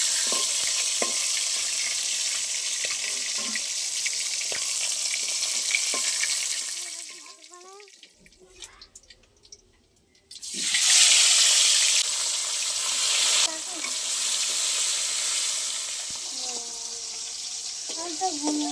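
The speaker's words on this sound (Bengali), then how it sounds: "বাকি মাছগুলো ভাজা হয়ে গেছে, তুলে নেবো।" Hilsa fish frying in oil, a loud steady sizzle that drops away for a few seconds amid scattered clinks and faint voices, then returns strongly and continues to the end.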